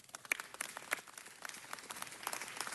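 Scattered applause at a Los Angeles city council meeting, faint and somewhat distant, with individual claps distinct and irregular rather than a dense roar.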